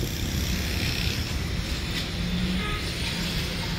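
An Algiers metro train passes nearby with a steady, loud rumble and rolling roar that holds throughout, set in the city's streets near the Casbah.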